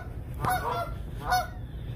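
Geese at an abandoned seafood restaurant in Columbus, Ohio, give two loud nasal honks about a second apart, close by over a low background hum.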